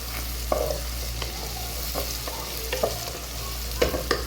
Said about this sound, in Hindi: इनको हम ऐसे इसको भून लेंगे, हल्का हल्का इसको भूनते रहेंगे।